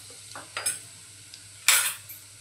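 Two spoonfuls of Malvani masala going into hot oil, giving a few short crackling sizzles with soft spoon and pan clinks between them, the loudest burst near the end.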